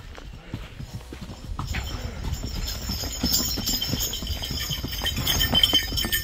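Horse hooves clip-clop steadily on a mountain trek trail from Sari village to Deoria Tal in Uttarakhand, close and rhythmic over outdoor ambience.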